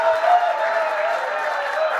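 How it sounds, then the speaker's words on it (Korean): An audience at a Basic Income Party founding convention in Incheon applauds, a brief burst of moderately loud clapping that stays even, with a faint tonal hum underneath. "큰 박수 부탁드립니다."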